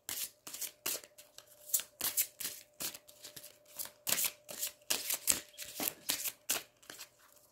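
Tarot cards are shuffled by hand in quick repeated riffles, a close, crisp rhythmic series of papery bursts separated by short pauses.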